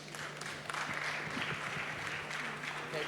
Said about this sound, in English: A big round of applause for all the panels.